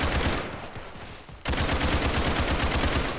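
Rapid automatic gunfire in the Roblox game Criminality, a dense burst that thins briefly and then resumes as a loud, steady stream of shots.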